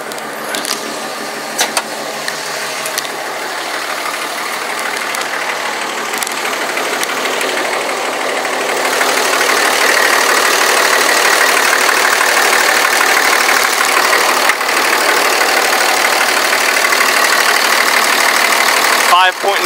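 The 5.9L Cummins turbo diesel of a 2006 Dodge Ram 2500 SLT 4x4 idles steadily with a rough, continuous rumble that grows louder about halfway through, while someone talks over it.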